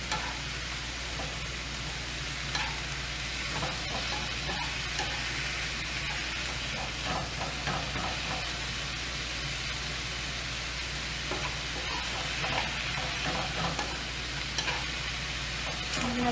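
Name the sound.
cumin seeds and chicken sizzling while browning in a pan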